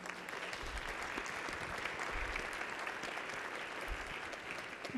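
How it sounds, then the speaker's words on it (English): A room applauding at a state legislative session, with a steady patter of clapping that lasts several seconds at a soft, distant level. "So I think she deserves a round of applause as well."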